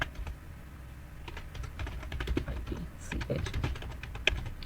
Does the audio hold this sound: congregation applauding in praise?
no